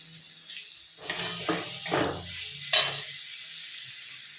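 Egg and chicken filling sizzling in a pan while spices are stirred in, with a few brief scraping strokes over a soft, steady frying hiss.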